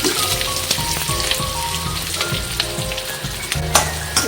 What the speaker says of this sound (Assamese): তাৰপিছত মই কাটি লোৱা পিঁয়াজ, নহৰু আৰু জলকীয়াখিনি একেলগে দি দিলোঁ।